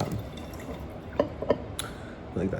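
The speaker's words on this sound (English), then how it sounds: "I think you should just eyeball 2 shots of Jose Cuervo and then I pour the full bottle" Jose Cuervo tequila poured from a bottle, a few light splashing and dripping bursts over a steady background hum, with faint voices around it.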